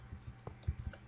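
Typing on a computer keyboard during a Minecraft build: several quick, quiet key clicks in an uneven rhythm, heard up close with no talk.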